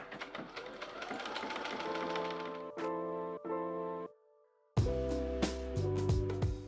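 A Brother M370 sewing machine stitches a buttonhole in steady rapid bursts, running loud and close, pausing briefly twice, dropping to near silence for a moment, then starting up again.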